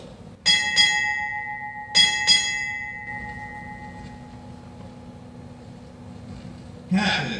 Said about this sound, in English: Bosun, sound four bells.